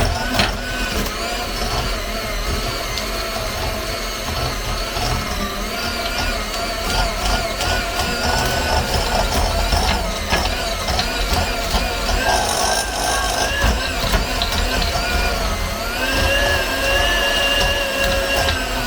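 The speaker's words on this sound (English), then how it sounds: "I am going to be using my hand mixer, so it may be a little bit noisy." An electric hand mixer creams cake batter for a birthday cake, a loud steady motor whine that holds for the whole stretch with slight shifts in pitch as the beaters move through the bowl.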